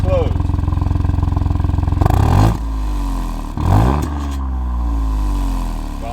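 A Ford Fiesta ST Mk8 engine idles with a steady burble, then blips sharply twice in loud rising revs, each falling back with crackling and popping as it settles.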